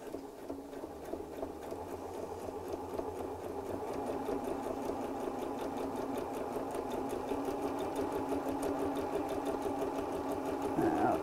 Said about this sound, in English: we'll just sew around the circle just to hold all of those layers together.